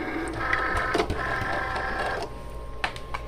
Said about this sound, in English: Now I just have to load my mat into my machine.